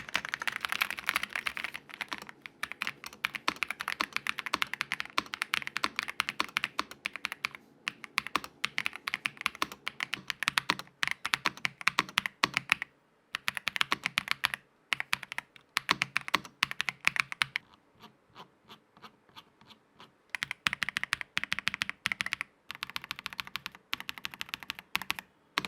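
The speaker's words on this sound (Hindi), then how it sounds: "टाइपिंग या फिर गेमिंग के टाइम आपको काफी ज्यादा सेटिस्फाइंग वाला फील आता है इस कीबोर्ड से" Rapid, crisp clacking of keys on an Ajazz AK820 Pro mechanical keyboard, near and continuous, with a few short pauses between bursts of typing.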